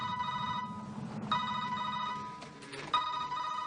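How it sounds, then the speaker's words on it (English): Telephone ringing with an electronic trilling ring, three short bursts separated by brief gaps, clear and fairly close over low background hum. "Every time the phone rings,"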